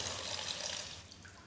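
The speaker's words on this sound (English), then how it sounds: "be very careful while draining out the water" Rinse water pours steadily out of a pot of washed rice into a kitchen sink, making a continuous close splashing rush that tapers off slightly toward the end.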